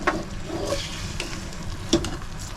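Ajwain and coconut mixture being stirred in a pan, a soft scraping swish over a light sizzle, with a few brief clinks of the spoon against the pan, close and steady.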